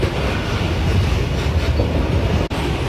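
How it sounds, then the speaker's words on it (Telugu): A train rolls past at a busy Indian railway junction near Jhansi in Uttar Pradesh, its wheels beating a loud, steady clickety-clack over the rails with a constant roar, close and with no talk. "ఎక్కడికి వెళ్తుందా మరి ట్రైన్?"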